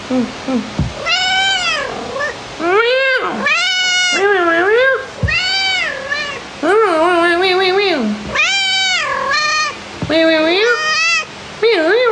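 A cat meows repeatedly, loud and close, in a string of drawn-out, rising and falling cries with short pauses between.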